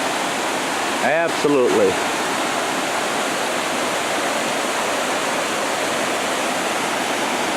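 Potato River Falls pours in a steady, dense roar of falling water, loud and close throughout, while a person briefly speaks over it near the start.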